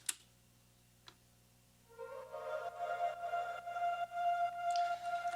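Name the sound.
Foundation's Emotive Choir Kontakt instrument, choir part of house track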